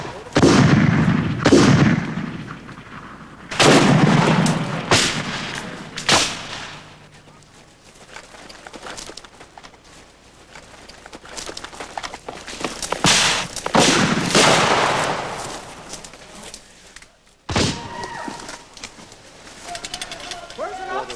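Civil War battle reenactment with booming artillery and crackling rifle volleys, several loud heavy blasts in the first seconds followed by scattered shots and further bursts, with a voice calling out between them.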